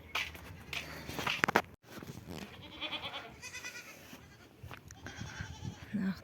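Goats being loaded for sale bleat repeatedly nearby, several loud, wavering cries spread across the stretch with shuffling and footsteps between them.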